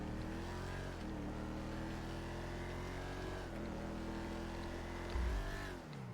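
Car engine in the FiveM video game revving steadily as it builds speed, pitch shifting with each gear, then a brief low thump near the end as it rams into a wall; loud and continuous, no talking.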